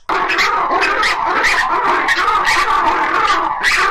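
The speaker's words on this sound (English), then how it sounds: "They do territorial calls to let all the other lemurs know in the area that they're here." Loud, raucous black and white ruffed lemur territorial calls in rapid bursts, harsh barking and braying cries overlapping close by.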